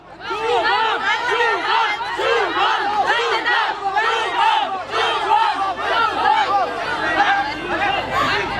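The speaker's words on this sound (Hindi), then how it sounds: "जो लड़के वाले हैं वो चिल्लाएंगे शुभम शुभम शुभम, लड़की वाले चिल्लाएंगे वंदना वंदना वंदना।" Wedding guests loudly chant the bride's and groom's names in rival groups, a dense continuous rhythmic crowd shouting that stays steady and near throughout.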